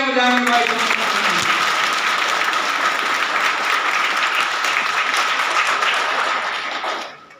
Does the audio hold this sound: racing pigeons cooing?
no